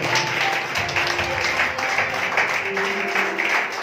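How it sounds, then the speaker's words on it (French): A church congregation at an evangelism service claps together in steady, continuous applause, with faint voices and a sustained tone beneath the clapping. "Donnons une acclamation au Seigneur."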